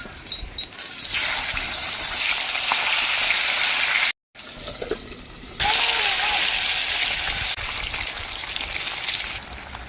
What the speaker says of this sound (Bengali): তো মাছটা আমি তেলে দিয়ে উপর থেকে ঢাকা দিয়ে দিয়ে মাছগুলি লাল লাল করে ভেজে নেবো